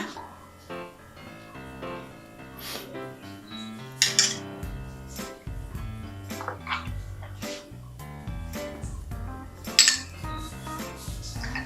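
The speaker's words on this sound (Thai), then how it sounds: "ตำหรือบดให้มันเข้ากันนะคะ" Thai shrimp paste chili dip (nam prik kapi) with coconut sugar is pounded and ground in a mortar. Irregular knocks and scrapes, with two sharper hits, sound over steady tonal background music.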